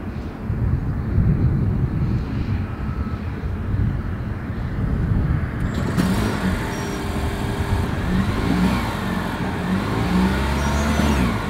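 A 2022 Lexus UX 250h hybrid starts up and idles, its low exhaust hum steady and close, thickening with a deeper engine note partway through as the gasoline engine joins in.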